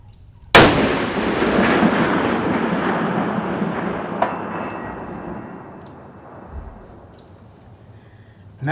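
A muzzle loader rifle fires a single loud long-range shot at a 1000-yard target in the wind, the sharp blast followed by a long rolling echo that fades slowly over several seconds.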